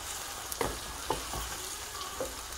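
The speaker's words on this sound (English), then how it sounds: "break this up, mix it all in with the onions" Tomato paste is broken up and stirred into frying onions for a bean sauce, with a soft, steady sizzle under a few scraping knocks from the spoon in the pot, close and fairly quiet.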